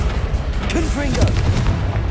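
Booming fire-spell blast from Confringo in Hogwarts Legacy during a duel with many spells, a heavy low burst with whooshing magical effects, while a voice calls out spell names over it.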